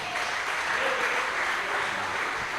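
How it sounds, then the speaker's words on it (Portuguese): A church congregation claps together during a service, the applause dense, even and sustained at a steady moderate loudness. "As palmas para o Rei da Glória."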